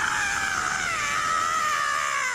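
A man screams loudly and without a break as a sound effect, a harsh, strained cry that runs continuously throughout with no pauses.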